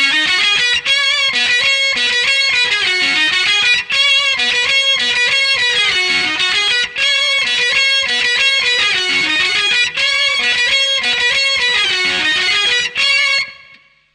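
Distorted electric guitar plays section B, a steady repeating riff of bright, driven notes with brief gaps every few seconds, loud and alone with no talking.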